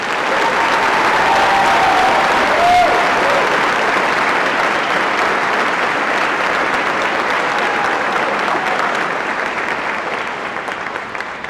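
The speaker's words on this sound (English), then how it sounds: "Please join me in a round of applause for the graduates of Second Lieutenant" Sustained, loud applause from a crowd at a military commissioning ceremony for graduating second lieutenants of Charlie Company, steady throughout and tapering slightly toward the end.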